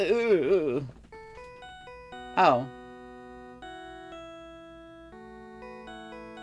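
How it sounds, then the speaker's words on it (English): A phone ringtone from the Phoenix Wright: Ace Attorney game plays a bright, chiming melody of clear electronic tones stepping through a tune, with a short vocal outburst at the start and another brief voice midway. "It's a nice ringtone."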